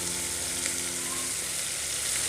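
Onion and capsicum frying in oil with spluttering cumin seeds for a vegetable dhal, a dense, loud, continuous sizzle heard close up with no voices.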